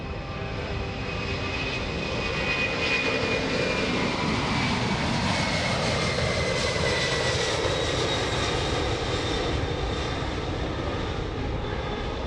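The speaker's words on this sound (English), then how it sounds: "The C5M Super Galaxy is the heavyweight champion of the world." A C-5M Super Galaxy military cargo jet roars steadily at an airshow, a loud, broad engine rumble with a high whine that swells gently and holds for the whole stretch, with no voices.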